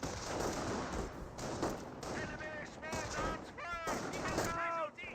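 Bursts of MG42 machine-gun fire and scattered sniper shots in a World War II battle in Company of Heroes, steady crackling gunfire under a game voice and chirping effects, continuous and fairly loud.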